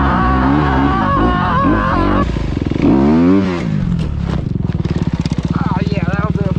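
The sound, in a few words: Honda enduro motorcycle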